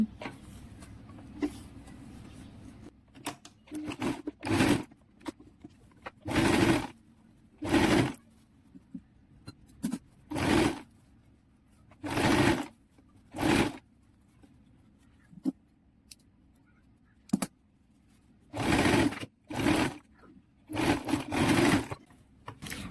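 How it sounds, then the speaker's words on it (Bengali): A sewing machine stitches the side seam of a kameez collar in loud bursts of rapid whirring, roughly a dozen runs separated by quiet pauses. "এখন কলারটির সাইড দিকটি সেলাই দিয়ে নেব"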